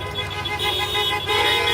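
Car horns honking along the roadside at a freedom convoy protest in BC, sustained overlapping toots from several vehicles, loud and close amid traffic rumble.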